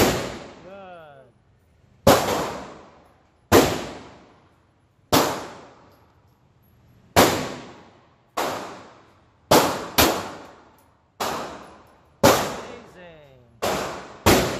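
Ten sharp 9mm pistol shots at a shooting range, fired singly at irregular intervals of one to two seconds, each loud and close with a ringing decay; a voice talks briefly at the start.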